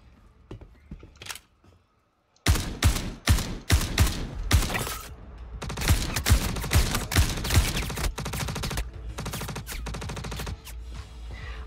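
Rapid bursts of gunfire from a video game shooter, loud and close, firing in quick repeated volleys after a short quiet pause, then trailing into sustained noisy combat.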